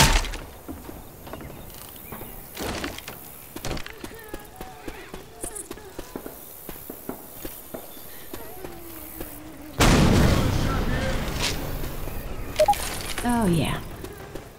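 Gunfire in the game Left 4 Dead 2 rattles as players shoot at the Tank: scattered sharp shots early on, then a dense, loud burst of firing from about ten seconds, with voices talking over it.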